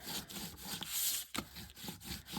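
A plastic bone folder rubbed firmly back and forth over freshly glued paper folded down on a bingo-card folder, a close, steady scraping with brief pauses between strokes.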